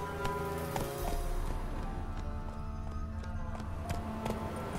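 Roach, a horse in The Witcher 3, gallops with steady rhythmic hoofbeats close by, alongside a constant patter like rain.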